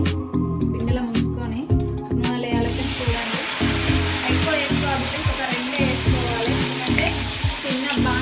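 Battered green chilli bajji fry in hot oil, a steady loud bubbling sizzle that surges partway through as more batter goes in, with someone talking over it.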